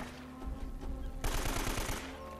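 Rapid gunfire from the video game Uncharted crackles in a dense burst of shots, loudest in the middle of the clip, with game sound around it.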